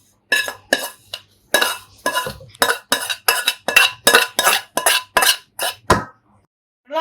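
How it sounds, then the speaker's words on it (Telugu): Roasted semolina being scraped and tipped from a pan onto a large plate for rava laddu, a run of about a dozen sharp metallic scraping clinks of utensil on metal in steady rhythm, close and fairly loud, with no talk. "ఈ వేగిన బొంబాయి రవ్వ నేను వేరే ప్లేట్లోకి ట్రాన్స్ఫర్ చేస్తున్నాను"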